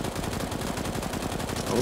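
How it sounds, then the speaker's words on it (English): Rapid bursts of automatic gunfire in a video game, a dense, steady rattle of repeated shots lasting the whole moment, with faint voice sounds in the background. "Oh, that's the bomb sound."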